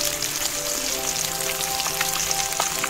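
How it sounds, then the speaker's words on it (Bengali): Katla fish pieces fry in hot oil for a crisp finish, giving a close, loud, continuous sizzle with dense crackling and spitting that holds steady throughout. "আরেকটু সময় ভালো করে ভেজে নিই এইভাবে"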